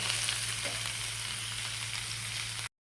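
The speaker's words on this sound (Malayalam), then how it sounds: "ഇനി അതിലേക്ക് നമ്മൾക്ക് പത്ത് പന്ത്രണ്ട് ചെറിയ ഉള്ളിയും ഒരു മീഡിയം സൈസ് ഇഞ്ചി ചെറുതായി മുറിച്ചതൊക്കെ ഇട്ട് കൊടുക്കാം" Small shallots and chopped ginger sauté in a pan with a steady, close sizzle and faint stirring, continuous for a few seconds before cutting off abruptly.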